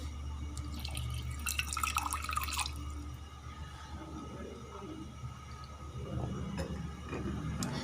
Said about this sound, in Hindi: मैं थोड़ा सा ना इतनी देर में पानी पी लेती हूँ